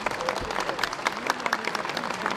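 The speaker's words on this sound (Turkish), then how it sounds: "Kütahya'nın sevilen valisi Ali Çelik yeni görev yeri Hakkari'ye alkışlarla uğurlandı." Steady applause from a crowd at a farewell dinner, many hands clapping continuously at moderate loudness with faint voices mixed in.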